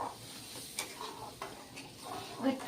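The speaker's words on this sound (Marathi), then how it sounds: "आता आपण याला छान असं फ्राय करून घेऊया" Soft crackling sizzle of a ground masala paste frying in a pan for a cauliflower curry, with occasional stirring scrapes and a few light clinks.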